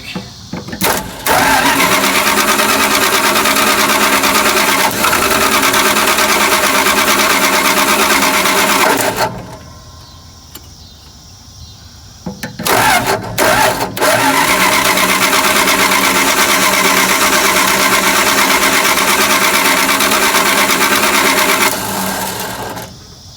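A Dodge D600 truck engine with a freshly rebuilt carburetor cranks and runs loud and close, a dense steady roar that cuts out for a few seconds, then restarts with sputters and roars on again.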